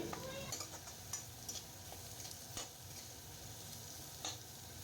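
Steady sizzling of potatoes frying in a hot pan, with a few light clinks of stirring over the crackle.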